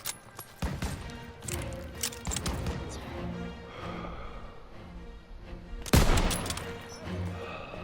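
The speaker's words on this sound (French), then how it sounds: "Tir de suppression. Continuez à tirer." Game gunfire from Call of Duty WW2 in a wartime battle, dense bursts of shots and rapid automatic fire rattling on for several seconds, with one especially loud blast near the end.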